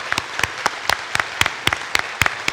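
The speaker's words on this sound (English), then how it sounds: "Let's give them all a round of applause just for coming and speaking." A small audience at a Hastings election hustings gives a brief round of clapping, a thin run of distinct close handclaps at a steady rhythm rather than a full ovation.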